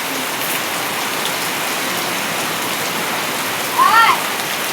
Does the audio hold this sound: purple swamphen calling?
no